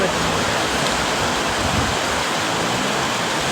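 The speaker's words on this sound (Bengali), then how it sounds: "আজকে হঠাৎ করেই পাঁচটা সাড়ে পাঁচটার দিকে বৃষ্টি শুরু হয়" Heavy rainfall pouring down and flooding a street in Malaysia, a dense, loud, continuous roar of water with no break.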